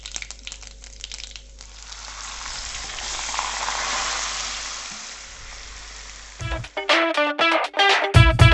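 Chicken frying in a pan with cumin, fennel and cinnamon for dhaba-style kacha chicken, a steady close sizzle that swells in the middle, followed near the end by loud clattering stirring bursts.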